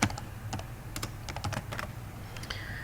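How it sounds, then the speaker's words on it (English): Quick bursts of clicking come from a computer keyboard as a few words are typed, close and clear, with an irregular rhythm and no voices. "So I just typed a few words in there so that you could see how that works."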